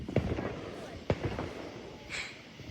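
Fireworks go off nearby in a few sharp bangs spread over the moment, then a brief hiss, with people's voices mixed in around them.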